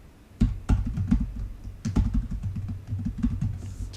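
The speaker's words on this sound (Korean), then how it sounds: "그러면 타이핑을 하겠습니다" Close-up typing on a computer keyboard, irregular clusters of quick key clicks with short pauses between bursts.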